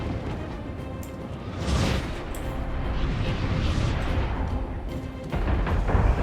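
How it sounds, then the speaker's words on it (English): Crossbowmen loose a volley during a siege battle in Total War: Three Kingdoms, a dense rumbling wash of shots and impacts rising around two seconds and swelling again near the end, with continuous battle noise and no talk. "Fire the crossbowmen"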